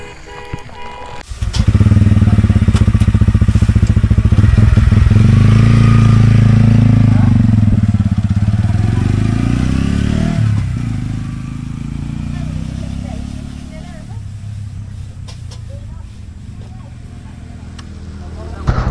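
A motorcycle on an off-road ride in the hills near the India–Nepal border toward a waterfall. The engine starts up after a brief pause and holds a loud, steady drone with shifting throttle, and a voice is heard over it at times.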